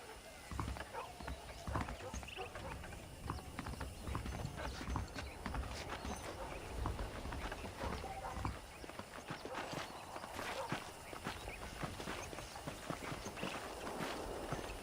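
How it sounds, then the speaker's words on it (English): Horse hooves clip-clop at a steady walking pace in Red Dead Redemption, with creaking tack and an occasional snort, while voices talk quietly beneath the hoofbeats throughout. "I picked out a fine horse for you"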